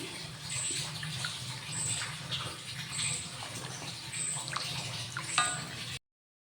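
Water poured into a pan while making mango ginger pickle, a steady close splashing pour running several seconds, with faint clatter near the end before it cuts off.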